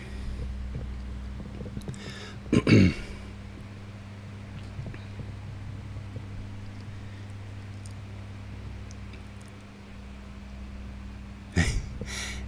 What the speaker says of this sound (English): if you hear a humming in the background, I've got two fans running